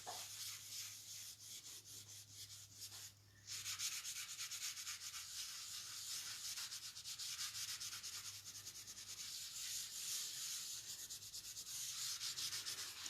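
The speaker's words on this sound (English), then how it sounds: "A soft tissue works the best, and I'm just going to now rub it over the embossed areas." A soft tissue rubs over embossed areas of a paper craft piece, giving a steady, faint, continuous brushing scrape heard close with no talking.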